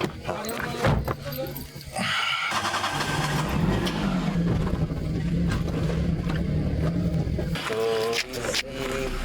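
A car engine rumbles steadily for most of the scene, loud and close, while people talk over it.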